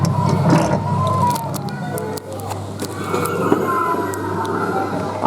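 Siren sound effect from a Falgas 4S fire truck kiddie ride, a wavering electronic tone drifting up and down under clicks and a steady low hum, fairly close, with brief background chatter.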